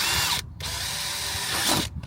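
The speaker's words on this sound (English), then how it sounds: "All right, so I'm going to start with a pilot drill." A power drill whines loudly and steadily as it bores a pilot hole into a Rivian R1T truck bed, with two brief pauses where the motor stops and restarts.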